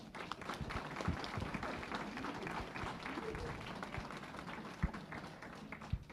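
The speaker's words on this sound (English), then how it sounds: "Give her another round of applause." An audience applauds at a book signing, with steady, moderately loud clapping and scattered louder claps, mixed with some background voices.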